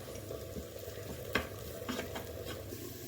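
Dried coconut pieces and spices stir-frying in a pan, a brief stretch of soft continuous sizzle with a few sharp spatula scrapes, close but fairly quiet, no speech.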